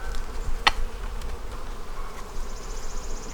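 Honey bees humming steadily around an open hive frame during a beekeeping inspection, a close, continuous buzz with one sharper pass near the microphone.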